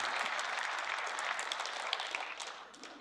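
An audience at a Future of Europe question-and-answer session with Croatia's prime minister claps steadily, a dense patter of many hands heard at moderate distance and easing slightly toward the end.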